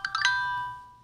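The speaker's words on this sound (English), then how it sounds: "That's my ringtone." An Android phone ringtone chimes close by: a few quick bright tones at the start, then a sustained ringing note that slowly fades over about a second.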